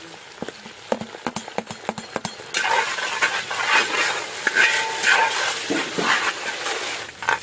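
Chopped green chillies and curry leaves dropped into hot oil, a few knocks and clatters first, then a loud, steady sizzle and crackle of frying that carries on to the end.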